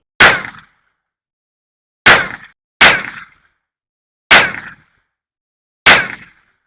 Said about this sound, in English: can try to shoot some of the Hornady Black and some of the other rounds